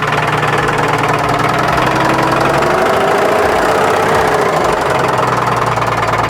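A Ford Ranger engine idles steadily on a trailer with a rough, persistent knock from the engine running under a continuous low rumble, close and loud, with no talking.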